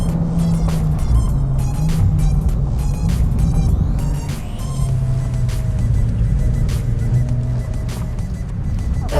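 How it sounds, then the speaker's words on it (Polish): Rally car, a Lancer Evo or Impreza STI, at full throttle on a final straight, its engine a loud, steady drone with pitch shifts and repeated sharp crackling bursts, no talk. "ostatnia prosta teraz jakby pełen gaz, pełen gaz"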